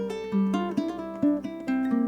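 A ukulele plays a short etude passage: a steady run of plucked, ringing notes with a few changes in pitch, close and clear with no voices.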